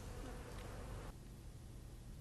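Honeybees of a breed suited to beekeeping in northern France buzz at a hive, a dense, steady, low drone that drops slightly partway through, with no talking.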